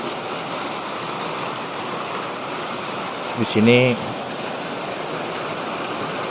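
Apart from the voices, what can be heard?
rain at night in Borneo rainforest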